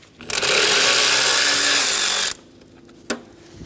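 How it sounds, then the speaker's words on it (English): A power tool spins out 8mm bolts from the engine cooling fan assembly of a 2012-2020 Chevrolet Sonic 1.8L L4, a loud, close whir lasting about two seconds before cutting off, followed by a single sharp click. "Remove the two 8mm bolts for the fan assembly."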